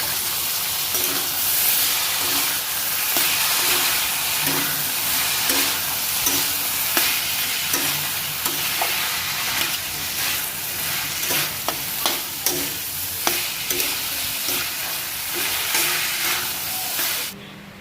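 Radish frying in a pan of spiced masala with turmeric and salt gives a loud, steady sizzle and hiss, broken by frequent scraping stir strokes through the whole stretch, with no talking.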